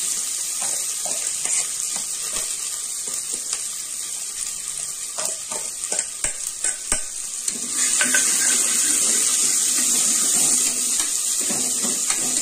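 Steady hissing sizzle of chopped onions sautéing in hot oil, with occasional stirring clatter, growing louder and more intense midway.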